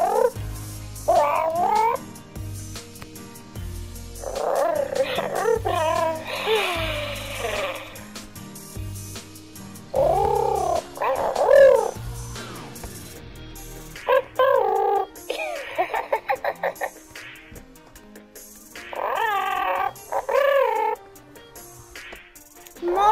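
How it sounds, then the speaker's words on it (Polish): FurReal Friends Cubby interactive bear toy making a string of electronic animal cries, squeals and cooing sounds in bursts, with button clicks between them and no talk. "Gdy naciśniemy mu tutaj na łapkę, słuchajcie, on zacznie wydawać kolejne inne dźwięki, a nawet zanuci nam jakąś piosenkę."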